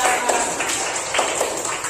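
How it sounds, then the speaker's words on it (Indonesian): Schoolchildren clap for a treasure-hunt coding robot during a primary-school lesson, a dense, steady patter of many small hands that fills the whole stretch with no pauses. "Tepuk tangan buat robot Faiza."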